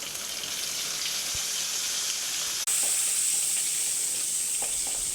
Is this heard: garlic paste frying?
yes